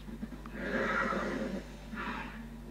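A horse neighing in the video game Assassin's Creed Odyssey, a clear whinny lasting about a second, followed by a shorter second call, over a low steady hum.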